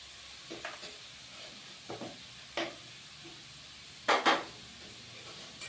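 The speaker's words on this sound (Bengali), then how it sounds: "এখন আমি কষিয়ে নেব এক মিনিটের মতো" Dried lentil nuggets (bori) with fenugreek greens being sautéed in a pan, a soft sizzle under repeated scraping stirs of a spoon, several sharp clacks against the pan near the end.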